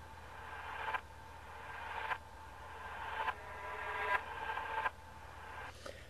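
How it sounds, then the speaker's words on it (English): Reversed reverb cymbal swells rise and cut off sharply in a repeating pattern about once a second, over a quiet low hum, within a roots reggae arrangement. "Here we've got a reverb backwards kind of cymbal sound here."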